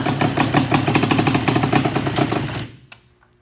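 A Yamaha Banshee ATV engine runs right after start-up with a loud, close, rapid two-stroke pulsing rhythm. It then dies off abruptly after about three seconds, leaving a faint click or two.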